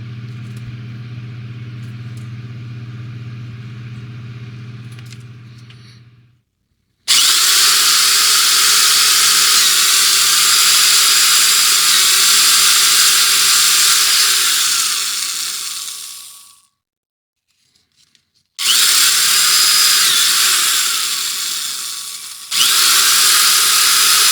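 A power drill bores holes into a wooden model base, with long loud whirring bursts separated by short silences, preceded by a lower motor hum and heard close up without talk.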